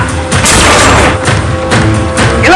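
A rapid burst of gunfire in a comedy film scene, several loud booming shots in close succession mixed with thuds and crashes, dense and near.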